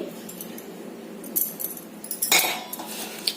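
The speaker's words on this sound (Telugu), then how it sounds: "ముక్క చక్కగా కలిసేట్టుగా కలుపుకోవాలి" Mango pieces for Andhra-style magaya pickle being mixed with turmeric in a vessel: soft, irregular clinks and scrapes of a utensil, with a busier cluster of clatter midway through, close and moderately quiet.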